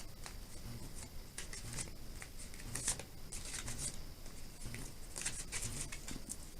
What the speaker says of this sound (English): I like to shuffle a little bit so you guys can see.